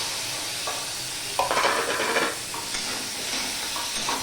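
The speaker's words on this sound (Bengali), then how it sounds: "অল্প তেলে একটুখানি কাঁকড়াগুলো নেড়ে চেড়ে নিলাম" Crab coated in salt and turmeric is stirred and fried in a little oil, giving a loud close sizzle with scraping stir sounds and a sharper burst of frying hiss partway through.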